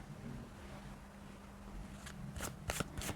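Tarot cards being shuffled from two decks, a soft background hiss followed by several quick crisp riffling bursts near the end.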